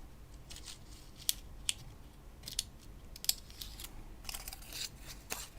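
Scissors snip through thin dichroic film in a string of crisp, sharp cuts, irregularly spaced and close up, with no talking.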